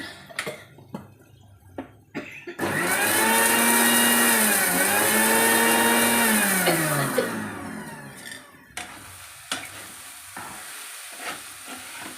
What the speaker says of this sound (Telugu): ఎల్లిపాయలు వేసి మిక్సీ చేస్తున్నాను